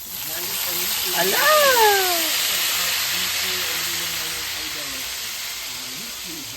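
Soy sauce and garlic sizzle in a frying pan, a steady loud hiss that swells early on and then holds, while a voice talks and exclaims over it.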